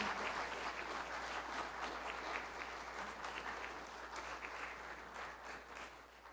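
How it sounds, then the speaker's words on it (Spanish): An audience at a community event in Teotitlán del Camino gives sustained, even applause. The dense clapping stays fairly distant and continuous throughout, with no voices over it. "Pido un fuerte aplauso para nuestras compañeras que han dado un esfuerzo."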